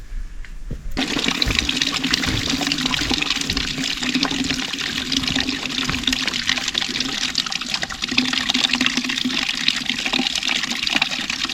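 Water gushes steadily out of a pipe from a drain tank on a rural homestead in Zimbabwe, a loud continuous rushing flow that starts abruptly after a brief quiet moment and keeps going unchanged.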